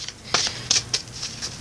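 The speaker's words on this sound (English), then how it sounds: "I have already pre-shuffled" Tarot cards are shuffled by hand close up, a series of crisp riffling bursts in an uneven rhythm, several quick flurries of papery slaps, clear and fairly loud with no speech.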